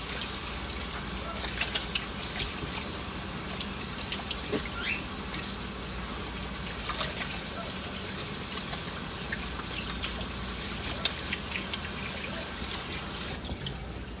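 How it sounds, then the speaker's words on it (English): Tap water running into a sink while hands are rinsed, a steady gushing splash with small shifting spatters throughout, close and continuous. "let me rinse my hands off"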